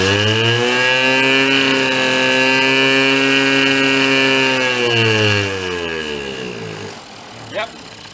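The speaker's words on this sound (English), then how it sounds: "let's go rev it up, see if it still does the same thing." A Yamaha Vino scooter, found in a barn and running with its air cleaner off, revs hard and holds a loud buzzing pitch, then drops back toward idle near the end; the small engine is close and fills the whole stretch.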